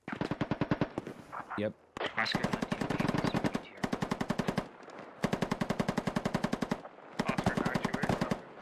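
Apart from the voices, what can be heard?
machine gun fire in a video game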